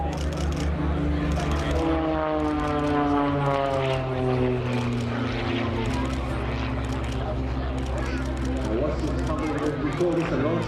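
A propeller aircraft engine drones loudly at an air show, its tone slowly sliding in pitch as it passes. A commentator talks over it throughout.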